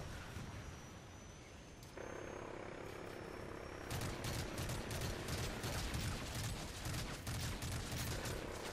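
Helicopter in the Call of Duty: Modern Warfare 3 video game, a continuous rotor and engine roar that swells louder midway, joined by bursts of gunfire toward the end.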